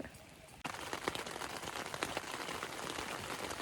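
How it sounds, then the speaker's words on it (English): Steady, dense rain patters on a tent during a canoe camping trip in a northern forest, a broadband hiss of drops swelling abruptly after a quieter start and continuing alone with scattered louder hits. "It just keeps raining and raining and raining."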